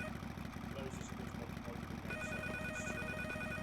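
Electronic telephone ring in the PS1 video game Mizzurna Falls, a steady repeating tone that comes in partway through over a throbbing idling motorbike engine, with faint chimes and soft talk underneath.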